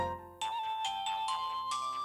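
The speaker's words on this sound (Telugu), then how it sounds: "నీకేదో ఫోన్ వచ్చిందయ్యా." A phone ringtone plays a bright electronic melody of repeating tones, close and clear, with no talking over it.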